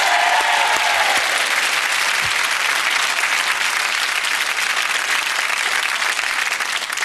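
A studio audience at a TV chat show cheers and applauds, a loud, dense, sustained wall of clapping that runs steadily throughout.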